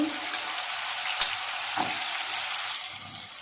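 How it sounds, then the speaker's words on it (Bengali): Onion paste sizzles and fries in a pan for chicken soup, a steady close crackling hiss with occasional stirring scrapes that fades slightly at the end. "এক মিনিট পর পেঁয়াজ পেস্ট দিয়ে দিচ্ছি"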